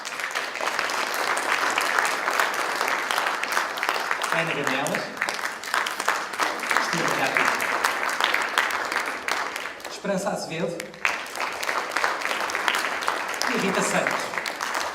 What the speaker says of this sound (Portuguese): eu queria que vocês dessem uma salva de palmas à Anabela Macieiro